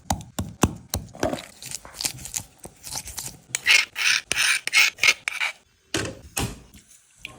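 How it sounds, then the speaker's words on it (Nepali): Chillies for a spicy goat meat dish are ground by hand, giving repeated rough rasping and rubbing strokes in irregular bursts, close and fairly quiet, with no talking. "काटेको खोर्सानी हुँदा हुँदै एक दुईवटा फेरि पिसे।"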